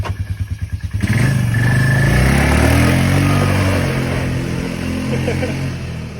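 Dirt-bike-style wheeler engine sputtering in uneven pulses, then revving hard and holding a loud, steady roar close by with a slight fade near the end.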